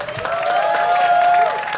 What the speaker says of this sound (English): Give them once again a round of applause.